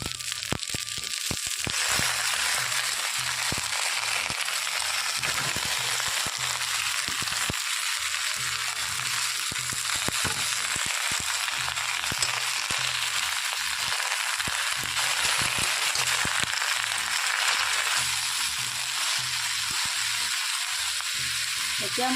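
Chunks of taro (kochu) hitting hot oil in a pan in a home kitchen, giving a loud, steady sizzle and crackle that carries on without a break for the whole stretch.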